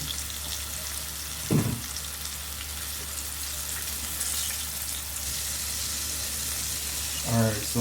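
Chicken tenders frying in hot oil, a steady broadband sizzle held at a moderate level throughout, with brief low knocks near the start and end as pieces are moved.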